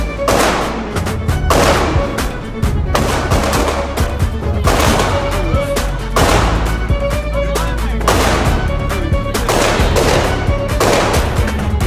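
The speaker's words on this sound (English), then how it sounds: "Fire until it's empty." Handgun shots crack out at a concealed carry shooting range, loud and close, several shooters firing in rapid irregular volleys that overlap continuously throughout.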